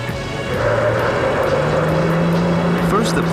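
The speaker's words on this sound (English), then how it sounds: "Porsche sprints into the lead." Porsche sports car accelerating hard in a race against the Eliica electric car, a loud steady engine drone with rising pitch holding close throughout.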